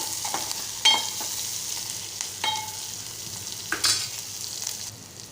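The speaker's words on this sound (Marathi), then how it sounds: "आता हे मिश्रण आपण व्यवस्थित एकजीव करून परतून घेऊया तेलात आणि थोडा वेळ तेलात भाजू देऊया आपण" Onion and green chili mixture frying in oil for a Malvani-style red pumpkin bhaji, a continuous close sizzle with a few sharp scraping stirs of a spatula against the pan.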